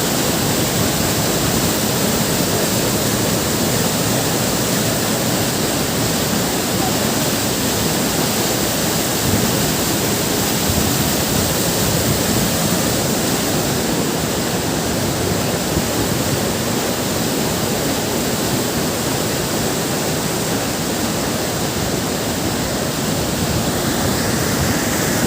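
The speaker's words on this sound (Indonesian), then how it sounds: "Ayo ke air terjun Silimanima." The Silimalima waterfall roars as a dense, steady rush of falling water, loud and unbroken throughout with no voices.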